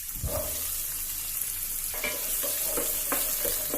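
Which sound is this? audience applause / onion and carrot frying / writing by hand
onion and carrot frying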